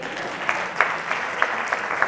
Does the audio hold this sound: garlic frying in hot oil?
no